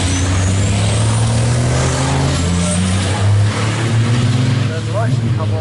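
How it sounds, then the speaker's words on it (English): A racing truck engine drones loudly and continuously as the truck gets underway at a race, with commentary talk heard over it. "Ironically, just at the moment when Luke Garrett got his truck underway."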